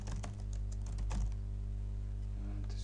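Keys clatter on a computer keyboard as text is entered into a Java GUI text area, a quick, irregular run of close, crisp clicks over a steady low hum, with no talking.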